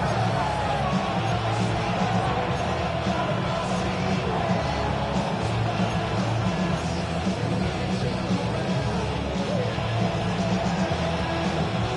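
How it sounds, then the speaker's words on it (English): Dense, steady roar of a large football stadium crowd during an NFL game against the Patriots, loud and continuous throughout with no clear breaks, swelling slightly at moments. "Well, this crowd making it hard to hear."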